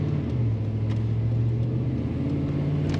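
A 1995 Chevrolet Silverado 1500 pickup engine runs steadily, a low, even rumbling hum that holds at a constant level throughout, heard without any voices.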